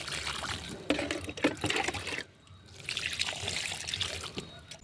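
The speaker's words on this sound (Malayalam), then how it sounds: "ഇനി വെള്ളം ഒഴിച്ചു കൊടുക്കാം" Water is poured onto a bean plant growing in a sack, a soft close splashing trickle that pauses briefly midway and then resumes.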